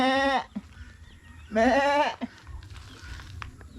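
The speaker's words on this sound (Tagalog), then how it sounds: "ito yung kambing kong alaga" A goat bleats twice, two loud wavering cries separated by a short pause, with quiet rustling and background noise in between.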